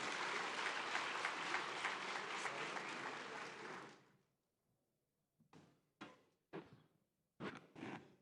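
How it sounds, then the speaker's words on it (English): Audience applause for the Executive Governor of Yobe State at a Lake Chad Basin governors' forum in Maiduguri, loud dense clapping that fades out around midway, followed by silence and a few scattered sharp knocks or bumps. "A round of applause for him, please."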